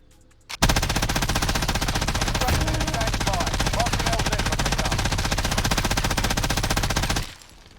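An MG82 machine gun fires in a video game, one long unbroken burst of rapid, evenly spaced shots, loud and close, starting abruptly and cutting off near the end.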